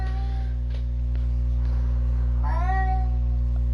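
A cat lets out one short, rising meow partway through, fairly faint against a constant low electrical hum that runs the whole time.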